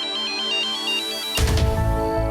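A mobile phone ringtone plays for an incoming call: a looping electronic melody of bright repeated tones, with a louder burst of sound cutting in partway through.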